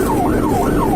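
Ambulance siren wailing in a steady rising-and-falling sweep, loud and close over road traffic noise during an emergency run through intersections.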